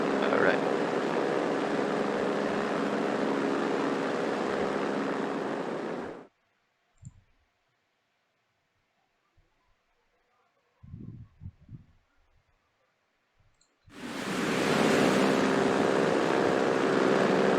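Loud, steady engine roar of an F4 jet aircraft taxiing in the video game War Thunder, cutting out for several seconds of near silence with a few small clicks before the engine noise returns just as loud.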